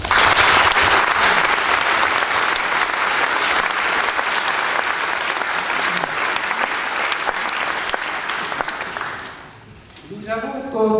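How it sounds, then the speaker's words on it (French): Audience applauding at an academy election proclamation, dense sustained clapping for about ten seconds that fades out near the end, followed by a voice starting to speak. "et je pense qu'on peut les applaudir."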